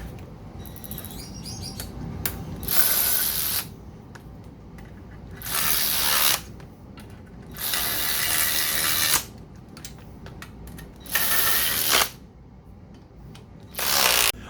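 A ratchet cinches down bolts on a 1977 Moto Guzzi V1000 I-Convert, in several separate bursts of rapid clicking, close and loud, separated by quieter gaps of handling.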